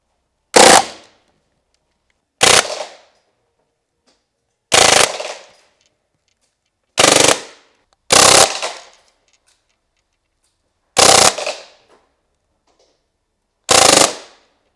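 A full-auto Crosman M1 carbine replica air gun fires BBs in seven short, sharp, loud bursts, each separated by a couple of seconds of silence.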